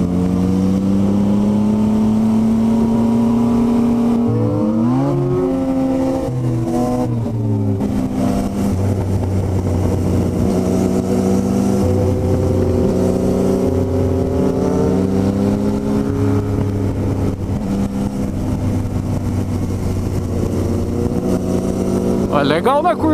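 A Yamaha MT-09 motorcycle engine hums steadily while riding through a curve, its pitch dipping and rising briefly as the throttle eases and returns, then holding a continuous close drone.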